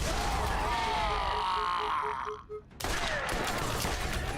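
Turret gunfire in Borderlands GOTY Enhanced, a steady rattle of shots running under game sounds, briefly dropping away before resuming loudly for the final seconds.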